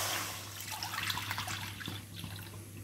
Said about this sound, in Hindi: इसमें हम दूध डालेंगे।